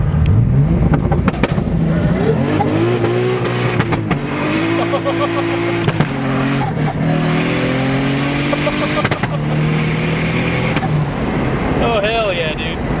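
Turbocharged BMW E30 budget build accelerating hard during a street ride, loud rising engine notes through repeated gear pulls heard from inside the car, with occupants talking over it.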